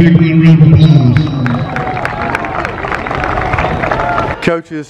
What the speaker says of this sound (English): Give Erin a big round of applause.